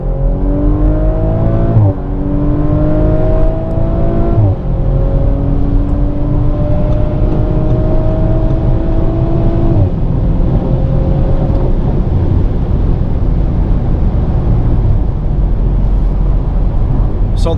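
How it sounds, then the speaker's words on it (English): An Audi RS5 accelerates hard from 100 to 200 km/h, its engine note rising steadily through each gear before dropping with each upshift, heard loud from inside the car over constant road and wind roar, with no talking. "once we put our foot down and go from 100 kilometers to 200 kilometers"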